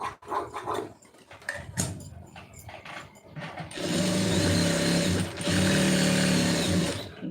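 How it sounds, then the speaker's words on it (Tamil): A sewing machine stitches along a folded centre crease in cloth, starting after a few seconds of scattered handling clatter and then running as a loud, steady, continuous whir with a brief pause midway. "இப்போ இந்த சென்டர் மடிச்சுட்டு ஒரு 1/4 இன்ச்சு தள்ளி தையல் போட்டுருங்க"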